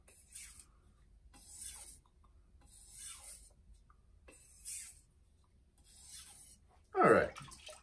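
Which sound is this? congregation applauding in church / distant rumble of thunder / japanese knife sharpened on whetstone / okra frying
japanese knife sharpened on whetstone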